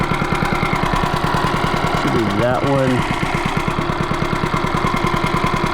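A HoverHearts 99cc gas mini bike engine idles steadily with a quiet, even putter, and people talk briefly over it.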